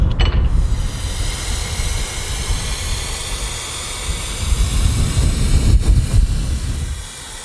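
Steady spray hiss of Maston RUBBERcomp rust-effect rubber coating going onto a car, loud and continuous for several seconds with a brief pause near the end.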